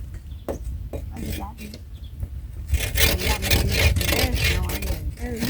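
Hand saw strokes rasping through wood, a steady back-and-forth rhythm that grows louder and denser in the second half, with voices talking nearby.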